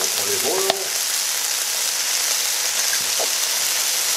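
Chicken fries in olive oil in a pan for a traditional British chicken and asparagus fricassee, a loud, steady close-up sizzle with a brief clatter near the start.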